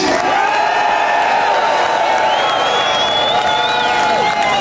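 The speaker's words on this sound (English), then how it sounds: "Let's have a massive cheer for Peter Lynch" A large audience gathered for a film screening roars with a massive, sustained cheer for Peter Lynch, with whoops and shouts layered over continuous loud crowd noise throughout.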